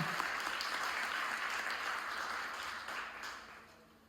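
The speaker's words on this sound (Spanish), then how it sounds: "quiero que comencemos con un fuerte aplauso" Delegates at a union plenary assembly give a loud, dense round of applause, steady and sustained before gradually tapering off.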